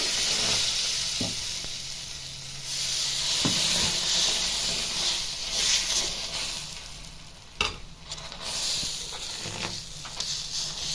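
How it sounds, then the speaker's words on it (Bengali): Vegetable batter spread on a hot tawa sizzles steadily up close, with occasional scraping and knocking sounds from a utensil and no speech. "তাওয়াতে বেটারটাকে দিয়ে দেবে"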